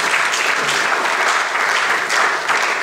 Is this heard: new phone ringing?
no